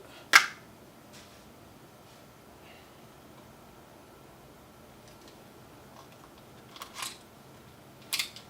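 A Nikon camera shutter fires as stills are taken: one sharp click near the start, then a few more quick clicks several seconds later, crisp and close in an otherwise quiet room.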